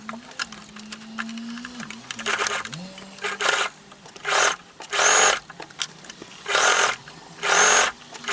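A sewing machine stitches a collar band from the center back outward, running in five or six loud, steady bursts separated by short pauses. Faint voice-like tones drift underneath the first few seconds before the stitching begins.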